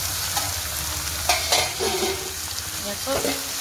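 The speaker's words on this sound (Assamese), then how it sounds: "এইখিনি মই ধুনিয়াকে একদম তেলত ফ্ৰাই কৰি" Goat meat mixture with coriander frying in hot oil, a steady close sizzle with scraping stirring strokes now and then and no voices.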